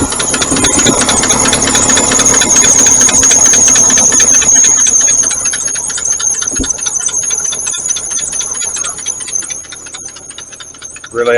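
A 1951 Packard engine fitted with new old stock spark plugs idles steadily up close, a dense even mechanical clatter with a faint high whine, easing slightly in loudness partway through.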